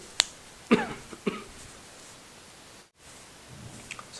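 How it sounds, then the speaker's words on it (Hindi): A few sharp coughs near the start, then quiet room noise with faint rustling afterward. "खांसी आ रही थी"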